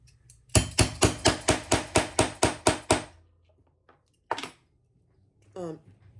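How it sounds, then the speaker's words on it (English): About a dozen sharp, evenly spaced hammer taps ring out in quick succession as screw-on purse feet are hammered onto a cork bag, followed by a single tap, a faint knock and a brief voice. "What did I use? My hammer."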